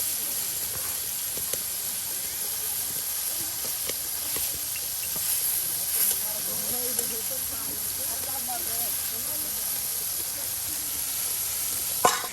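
Eggplants frying all together in hot oil, cooked outdoors by a riverbank: a constant, fairly loud hissing sizzle that runs through the whole stretch, with a faint voice briefly underneath.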